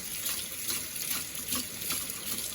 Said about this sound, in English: Just keep doing this until the water runs relatively clear.